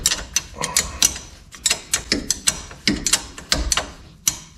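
A ratcheting wrench at work on the front wheel hub of a 2012 Chevy 4x4 truck, with a quick run of sharp mechanical clicks in uneven bursts, close and fairly loud, with no talk over it.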